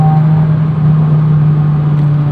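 A 2008 Honda City pulls hard in third gear, its engine holding a loud, steady droning hum with a strong tonal whine, heard from inside the car with no talk.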